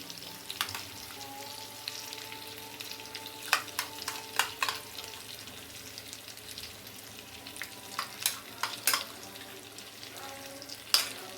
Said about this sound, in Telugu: మిగిలిన గ్రేవీ కూడా దీని మీద వేసేసుకోవాలి